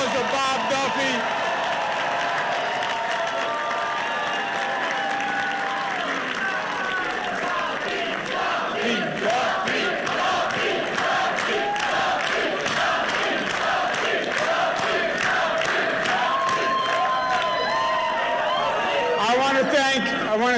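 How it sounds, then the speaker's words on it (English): A crowd cheers, shouts and applauds at a 2010 election-night gathering honoring Bob Duffy, Rochester's mayor. The dense, continuous roar stays loud throughout, with voices talking over it. "Big round of applause for Bob Duffy"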